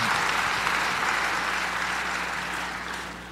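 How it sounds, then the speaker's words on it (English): A convention audience applauding in a large hall, a broad even patter of many hands that stays steady and slowly fades toward the end, with no voices over it. "applaud now if you wish."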